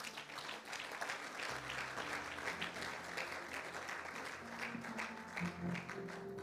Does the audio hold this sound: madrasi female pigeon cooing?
no